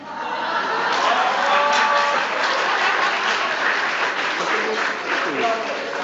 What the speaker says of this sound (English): Oh, a standing clap.